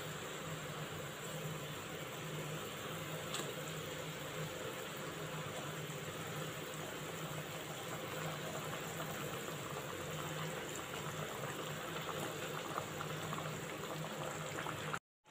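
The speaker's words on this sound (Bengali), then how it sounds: "দইটা দেওয়ার পর গ্রেভিটা ফুটছে" Yogurt gravy for rohu fish boils in a pan, giving a soft, steady bubbling and simmering hiss that stays faint and even throughout, with no talking.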